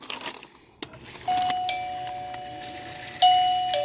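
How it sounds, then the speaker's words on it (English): A home front doorbell rings as a test: a clear electronic chime sounds, sustains, then strikes again, loud and close in a quiet room after a faint brief knock. "And that's the front doorbell."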